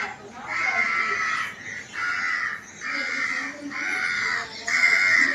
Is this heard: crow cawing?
yes